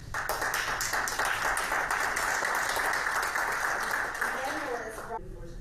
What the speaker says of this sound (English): something that received applause, as you heard